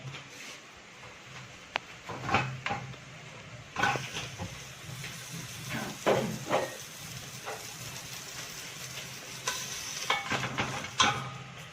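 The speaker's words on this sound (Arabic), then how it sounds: "يلا بينا الاول نحط حته اللية الحلوه دي تسيح على النار" Lamb fat sizzles and crackles as it melts in a hot pan, with a steady frying hiss under intermittent sharper pops and stirring clatter. No voices.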